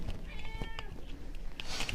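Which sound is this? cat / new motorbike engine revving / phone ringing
cat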